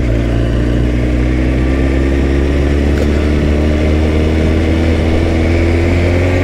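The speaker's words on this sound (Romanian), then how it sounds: "Cu motorul ăsta mă refer." A motorcycle engine runs close by, a loud, steady, low idling hum with a rough, even drone lasting throughout, no voices.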